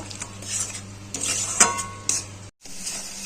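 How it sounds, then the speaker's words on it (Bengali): Spice paste with a little water is stirred and fried in a pan for a fish curry, with repeated close scrapes and clinks of a spatula against the pan over a soft sizzle, then a brief break. "অল্প জল দেব। দিয়ে মশলাটাকে কষিয়ে নেব।"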